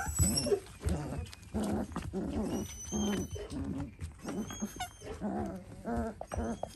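Four-week-old puppies growl and grumble in rapid, high little bursts, close by, while they scuffle together without a break.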